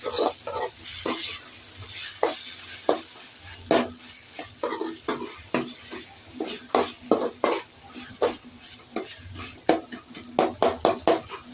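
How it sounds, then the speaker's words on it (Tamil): A spoon stirs ginger garlic paste sizzling in a pan, with a quick series of close scraping strokes and metallic taps over a continuous frying hiss, no talking. "இஞ்சி பூண்டு விழுது போட்டுக்கோங்க போட்டு இது நல்லா வாசனை இஞ்சி பூண்டு வாசனை போகிற வரைக்கும் பச்சை வாசனை போகிற வரைக்கும் நல்லா வதக்கணுங்க"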